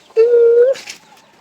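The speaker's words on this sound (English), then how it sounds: "chicks, all these hens" A single drawn-out, steady call from a poultry flock of young chicks and grown hens, close and clear for about half a second, followed by faint background rustle.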